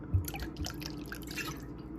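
A small splash of white wine poured into a simmering Bolognese sauce with dried pepper flakes, giving soft close dripping and liquid patter over a low kitchen background, with no talk.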